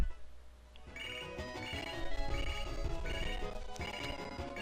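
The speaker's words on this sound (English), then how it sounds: "I'm not going to answer that phone." A chiptune phone ringtone from the Pokemon Storm Silver video game chirps in short repeated bursts over background game music, clear and moderately loud.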